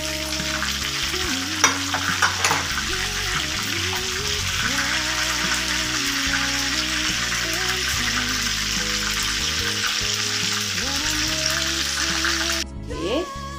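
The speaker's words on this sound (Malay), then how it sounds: "kita tengah goreng ayam masak kicap berempah" Steady, loud sizzling of spiced soy-sauce chicken frying in hot oil, a continuous crackling hiss with occasional stirring clatter.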